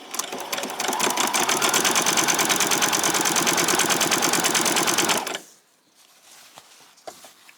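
A sewing machine runs fast and steady around a seam on a summer garment, a loud, close, continuous mechanical whir with rapid needle chatter for about five seconds before it stops abruptly, leaving faint room noise.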